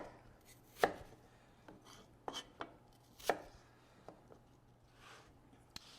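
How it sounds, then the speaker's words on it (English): A knife slices a quartered apple thinly on a board, skin side down: a handful of separate sharp cuts and taps at an irregular pace, fairly close, with no talk over them. "with the apples, you just want to slice them nice and thin, going from the skin side down"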